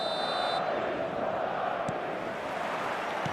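Loud, continuous roar of a stadium crowd at a night football match in the eFootball 2025 mobile game, a dense steady wash of cheering and chanting that fills the whole stretch with no pauses.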